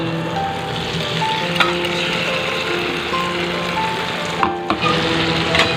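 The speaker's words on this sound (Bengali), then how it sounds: "এই পর্যায়ে আমি দিয়ে দেবো হচ্ছে এই আর কি পেস্ট মশলাটা" Spice paste drops into a pan of potatoes already fried red in hot oil, setting off a steady, close sizzle with a few brief clatters of stirring, and no voices.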